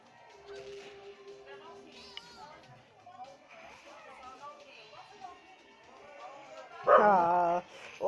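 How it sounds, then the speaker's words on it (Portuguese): A dog barks several times in short bursts among game sounds and background chatter from a King of Fighters 98 mobile match, the loudest bark cluster coming near the end. "ô Beethoven, pode latir, Beethoven!"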